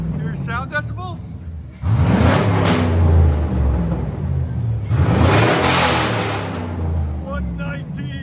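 A 2003-2006 Chevy Silverado SS with a 6.0L V8 barks through two loud, sustained revs of a deep, throaty exhaust close by. Someone talks briefly before the first rev and between the two.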